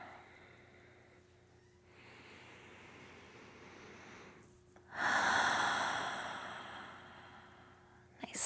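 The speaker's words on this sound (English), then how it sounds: "Exhale to lower." A long, audible exhale during a slow-flow yoga session, starting as soft breathing and swelling into a louder, breathy release partway through, close to the listener.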